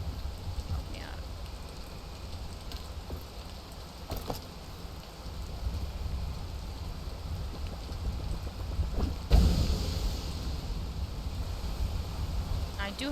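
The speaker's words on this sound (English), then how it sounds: "I do have to wait for it to stop raining though." Rain falling outdoors as a steady low wash of drops, with a few sharper knocks and a louder rustling burst partway through.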